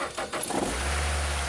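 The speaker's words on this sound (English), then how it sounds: "So I'm gonna go ahead and start the engine." A Nissan Rogue engine cranks and catches, then settles into a steady low idle, loud and close, with a brief jingle of keys at the start and no talking.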